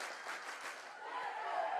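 A high school student section at a Salem Tigers versus Cabool basketball game gives a round of applause for a player's first basket, a faint, distant, steady wash of clapping and crowd noise.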